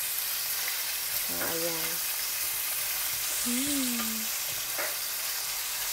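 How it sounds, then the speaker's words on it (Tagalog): Pork stir-frying with garlic and onion in a pan for pancit, a constant close sizzle while a person briefly speaks over it. "Nag-stir-fry na ako ng garlic at saka onion. And then, yung kanyang halo, yung pork."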